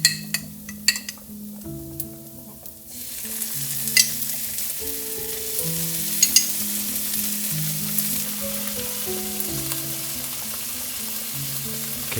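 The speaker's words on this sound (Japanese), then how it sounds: "炒めた玉ねぎにトマトソースを大さじ8杯加える。" Tomato sauce poured onto sautéed onions in a hot pan bursts into loud, close sizzling and keeps frying steadily with stirring, a few clinks early on, while gentle melodic background music plays underneath.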